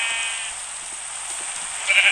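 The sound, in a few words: sheep bleating in a video game, hardcore mode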